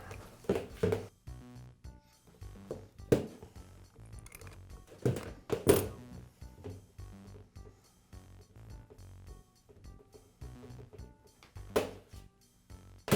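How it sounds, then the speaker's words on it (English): An old hose assembly is worked off a Milwaukee grease gun, producing scattered close metallic clicks and thunks with quiet handling noise between them, and no speech. "I'll begin by removing the old hose assembly from the grease gun."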